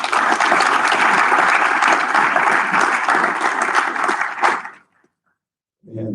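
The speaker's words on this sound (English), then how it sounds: "So a huge round of applause for all of you." A graduation ceremony audience claps loudly and steadily for the new graduates, a dense wash of applause that swells, ends abruptly, and falls into silence before a voice begins.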